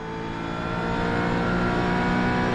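A car engine held at rising revs with the shift lights coming on, a steady, loud, close drone that climbs gradually in pitch and volume, alone with no talking.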